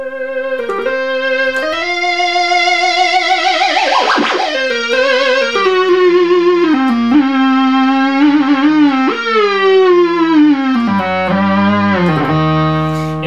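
A restored Moog synthesizer plays a sustained, buzzy tone whose pitch wobbles and bends as the modulation wheel sweeps the oscillator, loud and continuous with no talking, sliding gradually lower toward the end.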